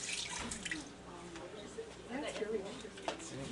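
Coconut water runs out of a freshly opened coconut in a light, splashing trickle with small drips, while someone talks close by.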